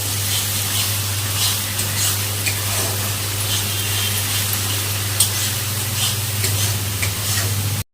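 Onions and green chilli fry in oil for a mustard fish dish, giving a loud, continuous sizzle with scattered stirring scrapes over a steady low electrical hum and no talk.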